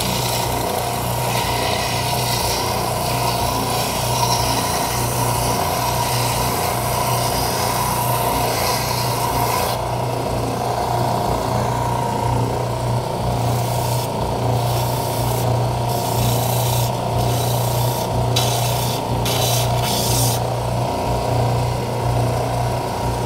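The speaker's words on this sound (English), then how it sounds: "So I'm gonna do that on the belt sander, but you can do this with anything." A belt sander shapes the end of a wooden dowel, giving a steady, loud motor drone and grinding rub that runs unbroken throughout, with the pitch of the abrasion shifting slightly partway through.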